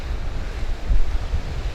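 Water washing up where it meets land on a beach, a soft low surf rumble mixed with wind noise on the microphone, steady and fairly quiet.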